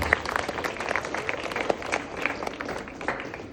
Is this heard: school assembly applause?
yes